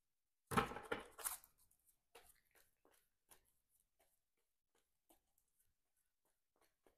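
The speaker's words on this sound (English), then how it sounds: "let's shuffle up our player deck here." A player deck of game cards is shuffled in a solo superhero card game, opening with a few sharp close riffles that trail off into sparse faint card taps and slides.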